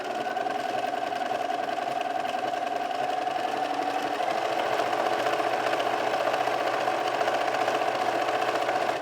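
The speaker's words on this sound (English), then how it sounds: "So the needle's almost going off into air as I'm stitching." A Bernina 330 sewing machine stitching fabric, a steady close mechanical whirring with rapid even needle ticks running continuously throughout, no voices.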